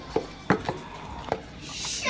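Homemade banana ice cream being mixed with peanuts, giving a handful of sharp, separate knocks and scrapes of a spoon against a bowl at an uneven pace, fairly close and alone, with a soft hiss building toward the end.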